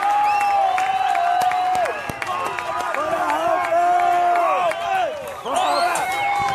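A tennis crowd at a doubles final in João Pessoa cheers and claps steadily, sustained applause with shouts and whistles rising and falling, loud and close, with a commentator's voice running over it.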